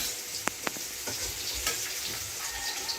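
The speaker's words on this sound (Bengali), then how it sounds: "এখন চলছে কচু ভাজা চলছে কচু ভাজা" Taro frying in a pan gives a steady, close sizzle with a couple of sharp clinks early on and a few soft pops throughout.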